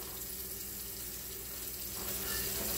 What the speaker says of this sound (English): I'm going to put a little bit more cup of water in there